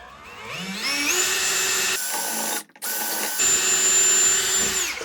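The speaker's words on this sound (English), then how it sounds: "Gonna make a mess, so it's nice if you have a little vacuum." A small vacuum runs loudly while cleaning up dust from drilling holes for floating shelves, its motor whining at a steady high pitch, briefly cutting out and then starting up again.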